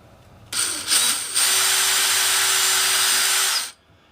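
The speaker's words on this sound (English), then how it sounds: "I like to drill the hole" A power drill boring a hole for a bale: a sharp start, a brief stutter, then a steady high whine held for about two seconds before cutting off cleanly, close and loud.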